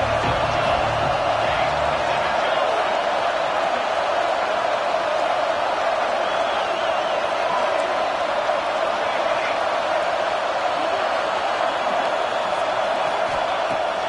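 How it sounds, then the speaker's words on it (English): A football stadium crowd at a Notre Dame versus Michigan game roars and murmurs continuously, a dense steady wash of cheering noise throughout. "This crowd bringing the energy and noise early."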